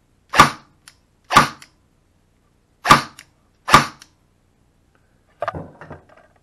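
An airsoft gun fitted with a Warfet fires four loud, sharp single shots at uneven intervals, each with a brief mechanical click after it, then a softer cluster of rattling mechanism noise.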